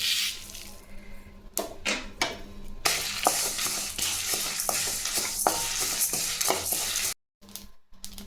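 Mustard seeds spluttering in hot oil for temple-style tamarind rice, an irregular crackle of sharp pops over a steady sizzle, close and fairly faint, with a few loud bursts and a sudden cutoff near the end.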